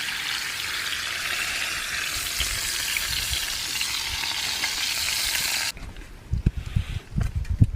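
Steak and eggs fry in a pan outdoors on a fall mountaintop, a loud steady sizzle that cuts off abruptly near the end, leaving quieter clinks and stirring knocks.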